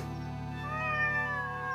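A cat meows in a drawn-out, rising and falling call, close and clear over a steady low hum, with no talking.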